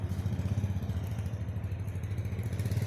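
A 150 cc motorcycle with retro styling idles steadily before a test ride, a low, even pulsing engine note running throughout without talk.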